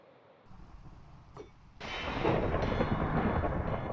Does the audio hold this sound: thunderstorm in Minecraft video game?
yes